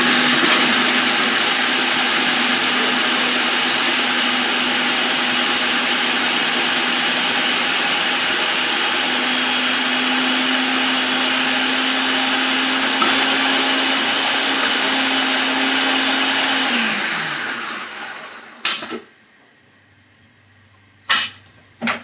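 A food processor grinds peanuts with a loud, steady motor whir that runs unbroken for most of the clip, then winds down and stops, followed by a few brief knocks.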